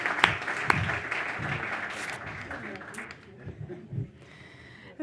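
Conference audience applause at a European transport policy event, a brief burst of clapping that fades after a few seconds as a voice begins to speak.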